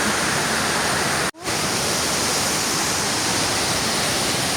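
Loud, steady rushing water roars continuously, close and powerful, with one very brief dropout partway through.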